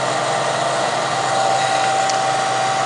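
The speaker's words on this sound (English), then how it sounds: "we have the inverter on running this hair dryer at a low setting without heat" A hair dryer runs on a low setting without heat, powered through the inverter of a Jackery Explorer 160 portable power station, giving a steady, close, unbroken whirring hum with a faint tonal whine.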